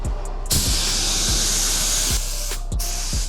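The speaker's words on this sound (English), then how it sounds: "once we start spraying the coats down wetter" Spray gun laying wet coats of glossy metallic paint onto a Honda Civic, a steady close hiss running nearly unbroken, with brief dips between passes and low periodic thumps beneath.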